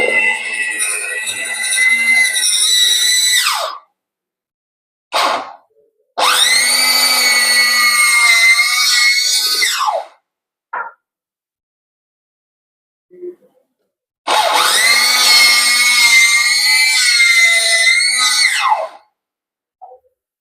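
An electric mixer beats butterless cake batter as milk is added, giving three long, loud bursts of high motor whine. Short pauses and small clicks fall between the bursts.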